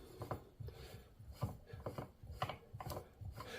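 The grind adjustment collar on a prototype T64 flat-burr coffee grinder is turned clockwise, giving close, repeated rasping and ratcheting clicks in an uneven rhythm.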